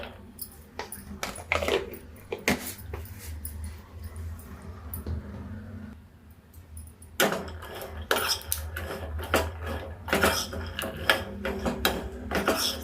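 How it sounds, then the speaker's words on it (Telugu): Peanuts dry-roasting in a pan for a red hotel-style peanut chutney, with scattered light rattles and clinks of nuts and utensil against the pan, quiet and close, no talk. "దీనికోసం ముందు మనం పల్లీలు వేపేసుకుందాం."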